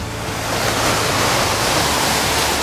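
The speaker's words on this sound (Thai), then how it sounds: "นี่น้ำตกสายโยกแบบมีหลายจุดมากที่ไหลลงมา" Sai Yok waterfall in Kanchanaburi, Thailand, pours down at several points, making a steady, dense rush of water that fills the scene with no voices.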